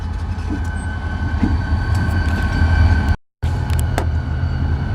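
A loud, steady rumble of a freight train rolling past nearby with metallic rattling and squeals, briefly cutting out before resuming.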